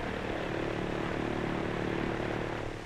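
Propeller airliners of 1933 drone steadily overhead, a continuous loud engine hum holding even throughout with no voices.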